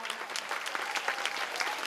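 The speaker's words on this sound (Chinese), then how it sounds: "Yeah， 掌声鼓励！" Audience applause for a jazz fusion band being introduced on stage, a dense, even wash of many hands clapping that holds steady throughout.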